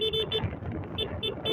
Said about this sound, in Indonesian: Nah ini saya mengklakson ini karena yang di lawan arah itu nggak kelihatan